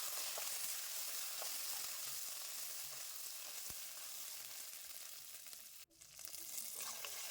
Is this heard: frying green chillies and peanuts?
yes